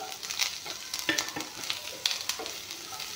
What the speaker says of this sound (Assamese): ভেন্দি ভাজিখিনি দি দিম।